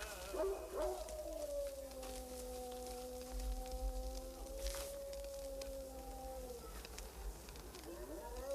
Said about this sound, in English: The animals out there. Possibly they're desert dogs.